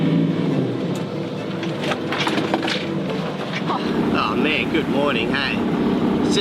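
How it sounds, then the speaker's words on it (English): A ferry roars past at about 20 knots, its engine loud over rushing water from a massive wake and wind noise, while people chatter nearby. "So that ferry was doing 20 knots with a massive wake"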